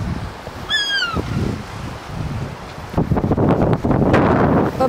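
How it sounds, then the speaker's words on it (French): Wind blowing across the open ground of a small island with about 200 inhabitants: a low, broad rush that gusts harder toward the end, with a brief high chirp near the start and no talking. "Ouais, il y a du vent, hein."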